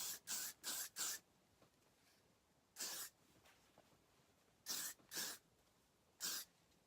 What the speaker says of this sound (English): I'm going to throw some hairspray on it.